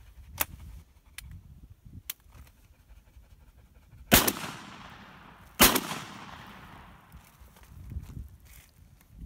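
A TOZ 66 12 gauge side-by-side coach gun fires birdshot outdoors: two loud, booming shots a second or so apart, each with a long decaying echo, among quiet clicks and handling noise.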